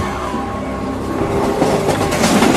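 A rushing train in a horror story setting: a steady, loud rumble of rolling wheels and rail noise that swells slightly toward the end, continuous with no voices.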